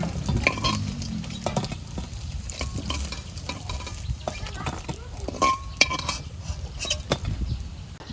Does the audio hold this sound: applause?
no